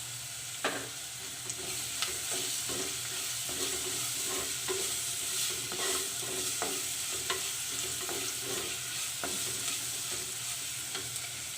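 Onions and green chillies sauté in a clay pot for chicken kuzhambu, a continuous close sizzle punctuated by frequent scraping stirs and clicks of the spoon against the pot.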